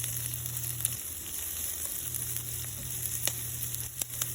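Onion sautéing in hot oil for a cabbage stir-fry, a steady close sizzle that holds throughout with a few faint stirring taps and a low hum underneath.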